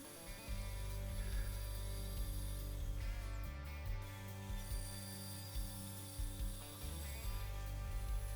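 A Portaband portable band saw with an 18 tooth-per-inch blade cuts pieces for a wood and metal service cart, giving a steady, close motor whine with a continuous cutting drone and small shifts in load.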